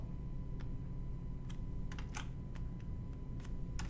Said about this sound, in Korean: 컨트롤 플러스 눌러서 화면을 확대하고 그리고 스페이스바로 화면을 이동하고